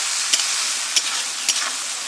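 Turmeric and salt frying in a pan make a steady bright sizzle, broken by three short scraping stirs spaced about half a second apart, close and clear with no voices.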